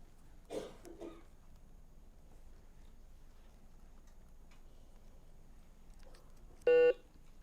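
A quiz bowl timer buzzer at a school competition sounds once, a loud, steady electronic tone held for about half a second near the end, after a cough and quiet room noise.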